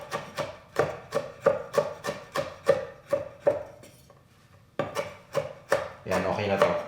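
Garlic and onion being chopped with a kitchen knife on a board, a run of about ten crisp, evenly spaced knocks, a brief pause, then several more chops that blur into faster, busier cutting near the end.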